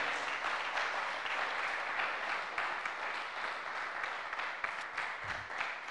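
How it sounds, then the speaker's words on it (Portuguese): A church congregation claps during a Sunday School Day service, an even, sustained patter of many hands at moderate distance, fairly soft overall, with no voices on top. "Pode aplaudir o Senhor?"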